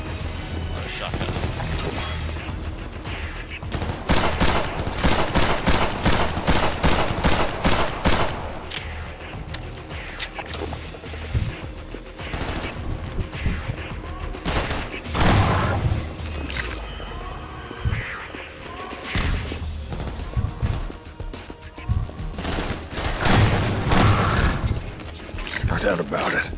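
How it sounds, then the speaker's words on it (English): A shotgun fires in the video game Killzone, with loud blasts repeating steadily in fast bursts through the whole stretch. A person talks over the gunfire. "What a shotgun."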